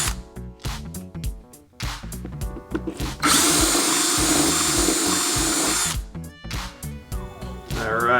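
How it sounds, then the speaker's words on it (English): A power drill whirs in short bursts, then runs steadily for a few seconds boring through plastic before stopping and starting again in brief pulses. "Start drilling."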